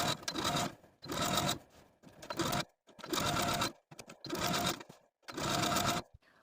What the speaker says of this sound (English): We're going to sew the seam allowance to the facing about 1/8 of an inch away from the original stitching line